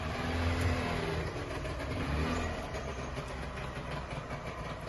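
A 1965 camping Kombi engine running steadily on seven-year-old fuel after years of standing, a continuous low rough idle rumble heard up close, with no speech.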